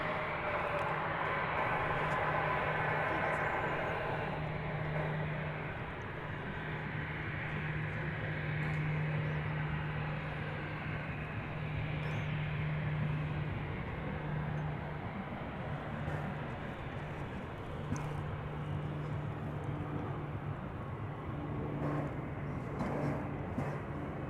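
An American Airlines Boeing 737-800 at DFW Airport, a steady broad jet roar with a low engine hum, held at a fairly even level throughout, moderately distant and without speech.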